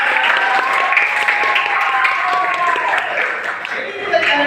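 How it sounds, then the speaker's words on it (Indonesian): Classroom applause for a student, a steady patter of many hands clapping from a nearby group for several seconds. "Iya, berikan tepuk tangan."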